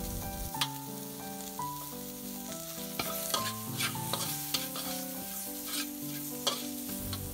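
Shrimp stir-frying in a pan with spices for a chayote vegetable stew, steady sizzling with repeated scraping and clanking of a utensil against the pan.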